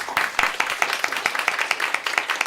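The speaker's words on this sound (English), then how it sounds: "We're just going to give a round of applause." Audience applause at a higher education forum on internationalization, sounding thin and sparse, with individual claps at an uneven rhythm from a small group close by.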